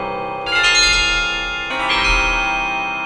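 Vintage Schulmerich handbells struck in octaves together, two bright chords in succession, each ringing with long sustained, slowly fading tones, close and loud.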